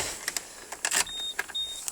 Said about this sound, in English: The car has electric windows on the front